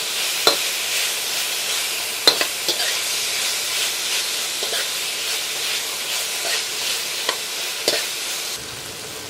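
Pork, quinoa and coconut milk sizzle steadily in a pan, a loud continuous frying hiss broken by occasional scraping taps of a utensil stirring, with no voices.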